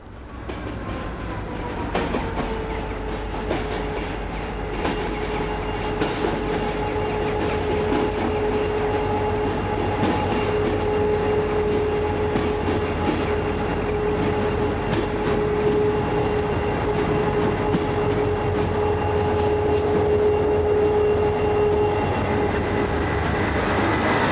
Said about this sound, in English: After a journey of a couple of hours, the radio train arrives at a deserted-looking station